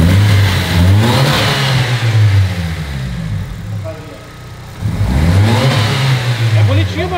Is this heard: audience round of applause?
no